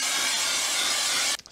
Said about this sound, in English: Is that enough brake cleaner for you guys?